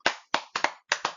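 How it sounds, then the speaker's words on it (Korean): Sharp individual hand claps in a church service, a handful of close, crisp slaps in uneven pairs with silent gaps between them. "하나님께 영광의 박수"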